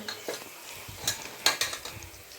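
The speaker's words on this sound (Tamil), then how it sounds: "வெங்காயம் கொஞ்சம் வதங்கிடுச்சு." Onions sautéing in a pan for chicken kulambu give a soft sizzle broken by a series of sharp spatula clinks and scrapes against the metal, close and without speech.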